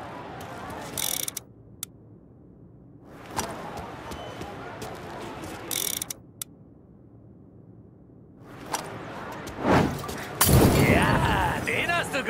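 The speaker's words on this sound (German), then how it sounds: "Heiz ihn mit dem Molotow richtig ein!" Molotov cocktail bursting into fire in the video game Mafia Definitive Edition: sharp shattering crashes and a roaring flare of flames, with bursts separated by near silence and the loudest, fullest blast near the end.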